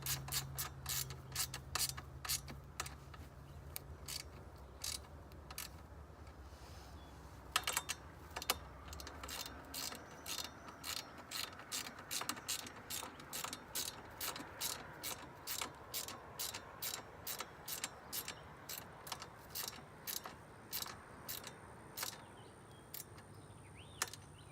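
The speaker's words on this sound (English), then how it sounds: "So we're gonna go ahead and tighten up the bottom portion." Rapid ratchet clicks from a hand wrench tightening the bottom bolts on a kids' 800-watt electric ATV with a 36-volt battery, repeating in steady bursts, close and fairly quiet, with a low hum fading early.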